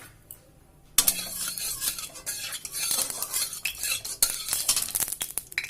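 Kohlrabi, potato and radish drop into hot mustard oil in a kadai, giving a sudden burst of crackling sizzle with scraping stirs and utensil clinks that continue steadily and close by.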